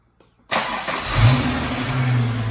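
A Holden VY Calais with an L67 engine cranks briefly and fires right up after a moment of quiet, settling into a loud, steady idle with a slight rev.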